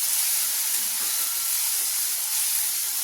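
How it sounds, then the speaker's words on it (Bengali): Crushed garlic and chili hitting hot oil with nigella seeds, giving a steady, bright hissing sizzle that holds evenly throughout with no talk. "এর মধ্যে যে আমরা রসুন আর লঙ্কার থেতোটা করে রেখেছিলাম, এটা দিয়ে দিলাম।"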